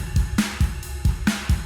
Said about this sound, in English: but you can also use realistic sounding drums like these ones.